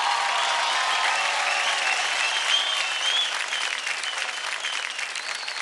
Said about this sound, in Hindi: खूब जोरदार तालियां लिप्सा और सनम के लिए।